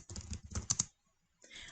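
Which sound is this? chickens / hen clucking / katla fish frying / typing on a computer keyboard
typing on a computer keyboard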